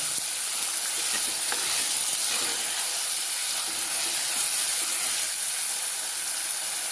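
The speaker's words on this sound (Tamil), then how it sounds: "க்ளீன் பண்ணி வச்ச இறாவை இதில் சேர்க்கணும் சேர்த்து வதக்கணும்" Medium-sized prawns sauté in a pan for a prawn gravy, giving a continuous bright sizzle with faint stirring scrapes, close and steady throughout.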